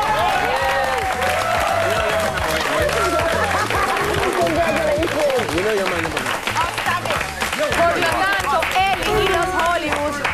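A studio audience applauds and cheers for the winners of a dance competition show, with loud, sustained clapping under a presenter's voice throughout.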